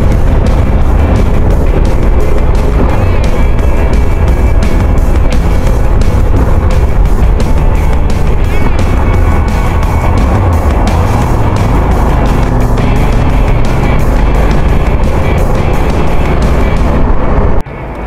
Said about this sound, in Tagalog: itong SRT 800 Adventure, napakaganda ng QJ motor